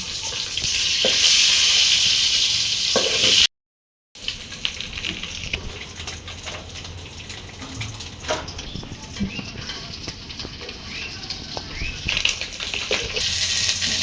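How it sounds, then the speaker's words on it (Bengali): Eggs frying in oil in a pot with a little salt, a steady loud sizzle that runs throughout, briefly cut off then resuming with stirring clatter and crackle. "এখন ডিমগুলো ভেজে নিতে দিয়ে দিছে একটু করে লবণ"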